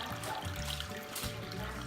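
Juices from a brined roasted turkey trickle and drip steadily onto a tray beneath a wire rack, a close, continuous watery dribble.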